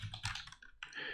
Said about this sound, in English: So this is the membrane keyboard.